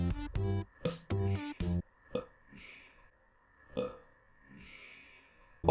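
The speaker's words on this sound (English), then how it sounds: "Sorry about that burp." A person makes a long, loud, guttural burp with a strongly voiced, croaky buzz in several pulses, followed by softer breathy noises and mouth sounds close to the microphone.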